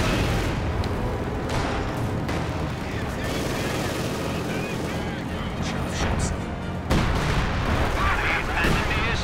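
Artillery and gunfire from the video game Company of Heroes 2 sound as a dense, continuous barrage of booms and shots, loud throughout, mixed with a commentator's voice.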